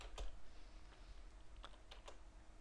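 Keystrokes on a computer keyboard while C++ code is typed, a few sparse clicks spread over a low, steady room hum, quiet and close.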